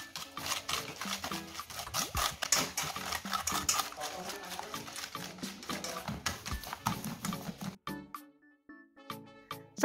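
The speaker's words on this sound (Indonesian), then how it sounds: "Kita aduk sampai gula larut." Rapid, busy clinking and scraping of a utensil stirring sugar in a bowl until it dissolves, a dense rhythmic rattle that breaks off near the end into a few sparser taps.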